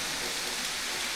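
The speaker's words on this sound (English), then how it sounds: "when we're inside the cave, but it feels like it's raining" Water drips and patters steadily inside a natural limestone cave, a dense rain-like hiss filling the space evenly at moderate volume.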